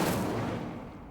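The Incendio fire spell is cast in the video game Hogwarts Legacy as one broad, roaring burst of flame that fills the moment and slowly fades over about a second. It is loud and close, with no voices over it.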